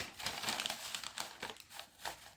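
Sheets of paper from a Beano paper plane kit are handled and shuffled, giving soft crinkling and rustling in quick irregular bursts, close and fairly quiet with no talk.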